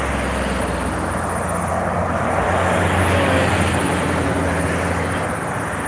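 A Flight For Life medical helicopter sits on Highway 85 near Fort Lupton, its engine and rotor giving a steady, loud whine and roar that swells slightly midway.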